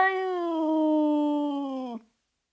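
A single long, drawn-out cat meow, loud and close, holding a steady pitch before cutting off sharply.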